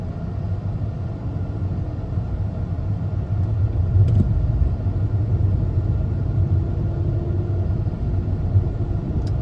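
A Jeep XJ on the road gives a steady, close low engine and road rumble that swells slightly midway, with no distinct gear change standing out. No speech.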